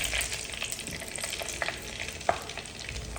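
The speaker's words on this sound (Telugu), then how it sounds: "నూనెలో పచ్చిమిరపకాయలు వేసిన తర్వాత మనం ఇలా కలుపుకుంటుంటాం అన్నమాట" Green chillies fry in hot oil while being stirred, a steady close sizzle and crackle with occasional scraping knocks of the utensil against the pan, and no talking.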